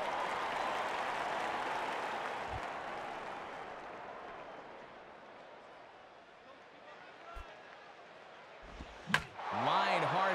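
A baseball stadium crowd in the video game MLB 09: The Show roars in a broad, steady wash that slowly fades, broken by a few sharp knocks and a whooshing swell near the end.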